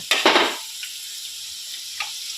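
Steamed cauliflower drops into a pan of frying potatoes with a sharp burst of sizzling and a brief clatter, then the hiss settles into a quiet steady fry with a faint clink near the end.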